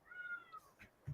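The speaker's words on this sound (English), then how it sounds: "kitty's crying again" A house cat cries with a single drawn-out meow, faint and fairly close, followed by a soft low thump at the end.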